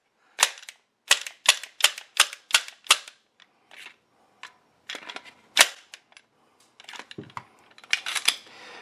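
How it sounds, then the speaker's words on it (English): Glock 34 pistol with an empty chamber, its slide release tested: a quick series of sharp, loud metallic clacks in a rapid rhythm, then scattered lighter clicks and rattles, close and with no talk. "Making sure slide release works by accident."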